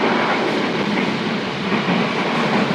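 Economy passenger train KA Ijen Ekspres on the Banyuwangi–Malang route, heard from inside as a steady loud rolling rumble with faint clickety-clack from the wheels, continuous throughout with no talking.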